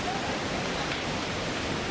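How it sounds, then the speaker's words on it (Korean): Water trickling down the first waterfall on Jeju Island, a steady, even hiss of flowing water that continues throughout without breaks. "오늘 정말 운 좋게도 이렇게 졸졸졸졸 1폭포의 물이 흐르고 있습니다."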